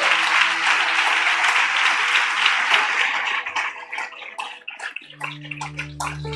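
Church congregation clapping loudly in a dense burst that thins into scattered claps as a sustained organ or keyboard chord enters at the end.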